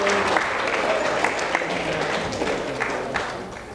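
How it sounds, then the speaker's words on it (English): A crowd at a local historical society weekend event claps for a speaker, a brief burst of steady applause from many people that tapers off toward the end. "Let's have a big round of applause for David Ball."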